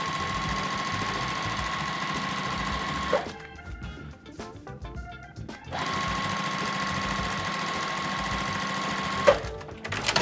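A sewing machine stitching quilt fabric squares sewn right sides together, running steadily with a humming mechanical whir, pausing briefly midway, then resuming for a long continuous run.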